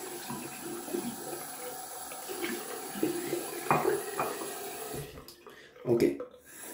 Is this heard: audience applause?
no